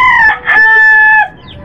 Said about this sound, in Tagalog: 25 days old na sisyo